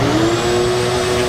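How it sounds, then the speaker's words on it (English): A shop vacuum roaring steadily in a workshop beside a planing machine: a loud, constant motor whine and rushing air with a sustained tonal hum, close and uninterrupted, no speech. "So I'm gonna get my vacuum going."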